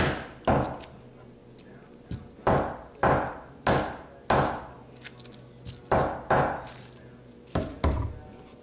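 Abalone steak is pounded with the flat edge of a tool on a board, producing about a dozen sharp, close thuds in an uneven rhythm, each ringing briefly before the next.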